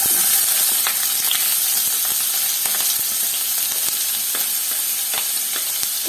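Two finely chopped medium onions sautéing in a pan with garlic, a steady close sizzle broken by light scraping and tapping of a spoon against the pan, with no voices.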